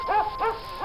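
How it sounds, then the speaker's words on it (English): A hound barks three times in a slow, even rhythm, each bark a rounded, moderately loud call standing alone, used as a story sound effect. "they heard the sound of a thunderous hound barking in the distance"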